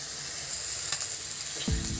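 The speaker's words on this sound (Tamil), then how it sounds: "மீடியம் ஹை மாற்றி வச்சு நல்லா வதக்கி விடுங்க" Goat blood sautéing in a pan over medium-high heat, a steady broadband sizzle with a brief scrape near the end, close and moderately loud with no talking.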